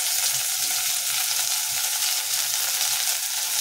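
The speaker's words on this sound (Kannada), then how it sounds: "ಪುದೀನನ ಒಗ್ಗರಣೆಯಲ್ಲಿ ಹಾಕಿ ಚೆನ್ನಾಗಿ ಮಿಕ್ಸ್ ಮಾಡ್ಕೊಳ್ಳಿ" Mint leaves hiss in hot tempering oil for ghee rice, making a loud, close, unbroken sizzle that holds steady throughout with no voices.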